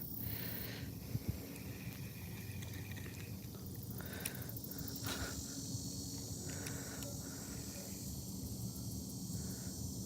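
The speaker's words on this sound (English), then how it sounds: "I think they're cicadas." Cicadas buzz in a continuous high, thin drone near water on a hot day, faint and distant, with soft splashes and lapping water underneath.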